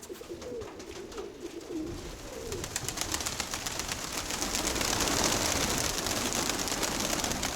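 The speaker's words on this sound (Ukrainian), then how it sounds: "тримаються голубки." Pigeons coo while being fed grain, their soft repeated calls close at first and then mixing with a growing rustle and patter of scattered grain and fluttering.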